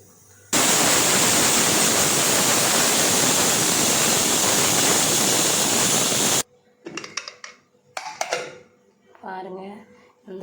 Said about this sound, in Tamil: ஒரு 5-6 முந்திரி பருப்பு, ஒரு கை நிறையா தேங்காய். இதை நல்லா மை போல் அரைச்சிட்டு வந்துடலாம்.